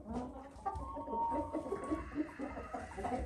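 Brahma chickens in a breeding pen give soft, scattered clucks and low murmurs, close by and fairly quiet, with a faint higher call among them.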